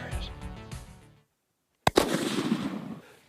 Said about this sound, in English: So I take the shot.